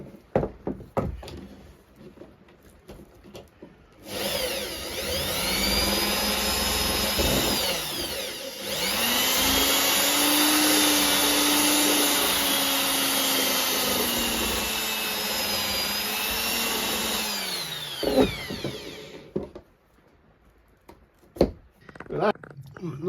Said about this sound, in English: I'll just put this little grindy stone thing on my drill. I think that'll make the hole a bit bigger.